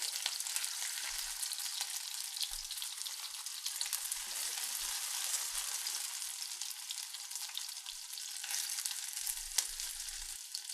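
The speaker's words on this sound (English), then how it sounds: "once we get them all nice and sauteed, we'll cut the heat off and then we'll finish them in the pan" Potato gnocchi sautéing in a frying pan, giving a steady, close, continuous sizzle and crackle of frying with no talking.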